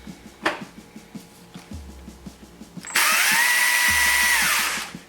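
A Stihl battery-powered electric chainsaw whirs up sharply, runs at a steady high whine for about a second, then stops fast, after quieter clicks and handling noise nearby with no talk.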